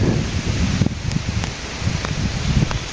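Steady gusting wind under a cloudy sky in a village, leaves rustling throughout, a constant broadband whoosh with a few brief crackles, no rain and no voices.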